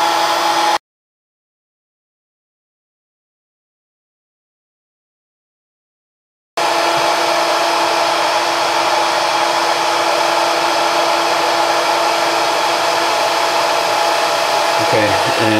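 A small hair dryer blows on a Motorola Droid X2's cracked glass screen to soften its adhesive: a loud continuous whoosh that stops briefly near the start, then runs steadily to the end.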